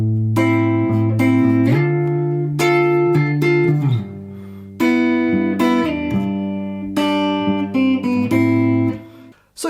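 A guitar plucks the opening verse line of Low Roar's Easy Way Out from Death Stranding, ringing notes and shifting bass tones moving in a gentle, unhurried rhythm, played alone and close.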